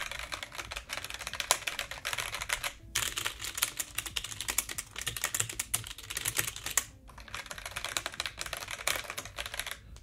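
Typing on a new ROCCAT Vulcan II keyboard, a steady run of crisp keystrokes continuing for about ten seconds with two brief pauses, close and clear with no voices.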